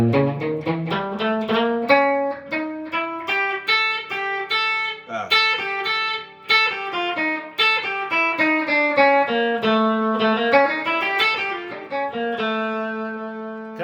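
A melodic guitar line steps through a scale, single notes ringing out one after another in a steady run, played alone with no voices.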